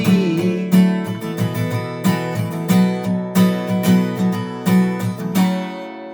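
Acoustic guitar strumming a chord progression in a campfire-song style, with steady rhythmic strums and ringing chords, close and clear, no voices.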